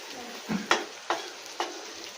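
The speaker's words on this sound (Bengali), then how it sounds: "এটা হচ্ছে পেঁয়াজ ভাজা হচ্ছে বিরিয়ানির" Onions for biryani fry in hot oil with a steady sizzle, punctuated by three or four distinct scraping stirs at a close, moderate level.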